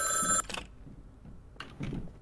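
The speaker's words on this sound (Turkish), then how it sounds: "Telefon çalıyor, ben açarım." A telephone rings in the Garry's Mod video game, a short bright electronic ring at the start that cuts off abruptly, followed by near-quiet with a few faint soft noises.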